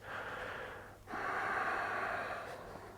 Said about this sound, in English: Maybe finding some more length and depth on the exhales.